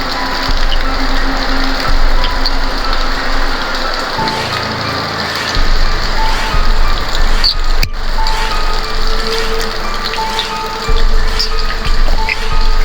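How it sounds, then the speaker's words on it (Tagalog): Rain falls steadily outdoors in a cemetery, a broad continuous hiss of drops on surfaces across the whole stretch, with low rumbling background and a brief sharp knock partway through, no voices. "Naabutan kami ng ulan"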